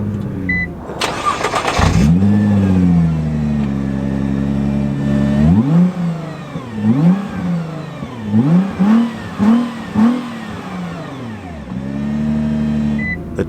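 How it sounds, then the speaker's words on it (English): A 2020 Nissan GT-R 50th Anniversary twin-turbo engine starts with a loud starter burst and catches, settling into a steady idle. Then come a series of short, sharp throttle blips, each rising and falling, before it drops back to idle. "The twin turbo engine roars to life."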